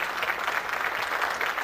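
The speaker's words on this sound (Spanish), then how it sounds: "yo les quiero pedir a ustedes un enorme aplauso" A short burst of steady applause from the audience at an international UFO congress, even and moderately loud, without voices over it.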